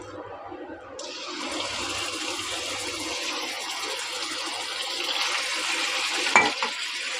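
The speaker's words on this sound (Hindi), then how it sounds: "अब मैं इसमें कीमा डालूंगी।" Minced meat drops into a frying pan of whole garam masala spices; after a quiet second a loud, close sizzle bursts out and holds steady, ending with a scraping stir.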